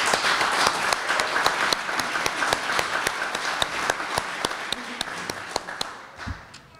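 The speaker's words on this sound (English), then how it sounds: "I think you give yourselves a round of applause" Applause from a banquet audience at a police awards ceremony, a steady wash of many hands clapping that fills the room and tapers off near the end.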